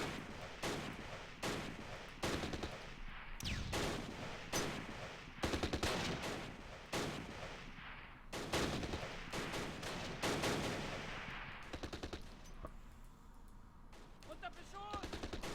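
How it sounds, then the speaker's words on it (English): Rapid bursts of gunfire from the Arnhem battle game Close Combat: Last Stand Arnhem, with soldiers firing pistols and other weapons, crack in dense, loud volleys that come almost nonstop and thin toward the end, with voices mixed in. "these guys are shooting at them with like pistols and stuff right now"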